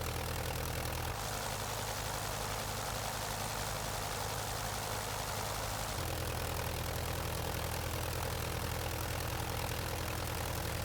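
A Curtiss Jenny biplane engine runs at full power in Flight Simulator 2020, a continuous droning propeller roar with a low rumble that shifts pitch slightly partway through, steady and without speech.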